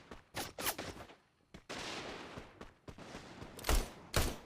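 Gunfire in a battle royale video game, with bursts of sharp shots separated by short gaps, a denser stretch of noise in the middle and two loud booming reports near the end.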